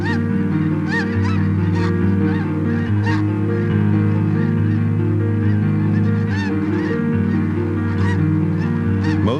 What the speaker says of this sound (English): Snow geese arrive for the winter.